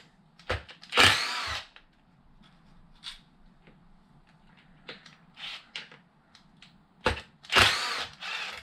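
A power drill backs four screws out of a bent wheelie bar on a Mojave, sounding as several loud, close whirring bursts separated by quiet gaps and faint handling noises.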